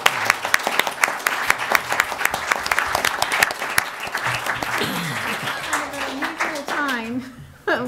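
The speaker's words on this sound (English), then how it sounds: "we need to give a round of applause to our candidates for being here" An audience at a homeowners' association board election candidates forum breaks into a round of applause, dense clapping that fades out over several seconds as people start talking.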